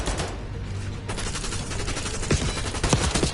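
Sustained rapid submachine gun fire in the shooter game Black Ops 6, dense bursts of shots running loud through the whole stretch with no pauses.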